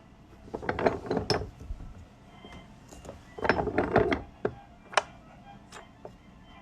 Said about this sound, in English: This is a Texas quarter that we punched a 1/2-inch hole into. Now we're doing our first fold on it.